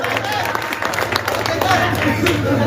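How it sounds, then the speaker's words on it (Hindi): Audience applause at a mushaira poetry gathering in Walandi, dense steady clapping with crowd murmur and a low hum underneath, filling the whole moment without pause. "एक बार जोरदार तालियां बजा लो।"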